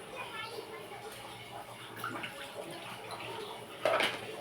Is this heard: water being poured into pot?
yes